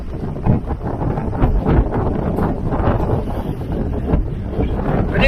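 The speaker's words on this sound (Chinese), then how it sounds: "哇塞，刮狂风了哎！" A strong gale in Xinjiang roars against the microphone in a continuous, heavy rumble with gusty surges, loud and close throughout with no voices.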